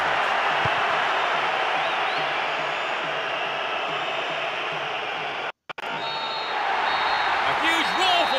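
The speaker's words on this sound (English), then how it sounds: "A huge roar from the crowd as the referee blows the final whistle" A crowd roars in Pro Evolution Soccer 6, a loud, sustained wash of stadium noise at the final whistle, briefly cutting out before swelling back, with commentary speaking over it.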